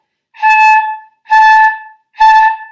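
Three breathy flute headjoint notes on one pitch, played without tonguing, each swelling in softly with a fuzzy, unclear start rather than a crisp attack.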